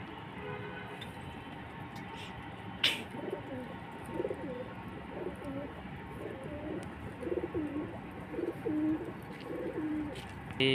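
Pigeons being given water coo in a run of soft, low, rolling calls, with a few faint chirps and light background noise around them.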